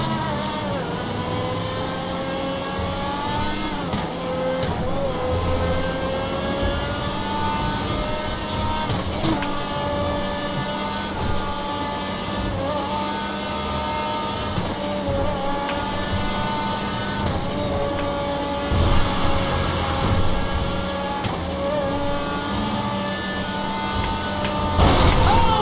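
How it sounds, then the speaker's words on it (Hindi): A car in GTA 5 is driven at top speed on a highway, its engine droning loud and steady with shifting pitch throughout, plus a few brief bumps and clunks near the end. "अब हम हाईवे पे आ गए, यहाँ पे इसको टॉप स्पीड में चला के दिखा देता हूँ आपको, और इसका ब्रेकिंग सिस्टम भी देख लो"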